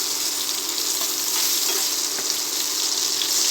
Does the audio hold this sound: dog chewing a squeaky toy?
no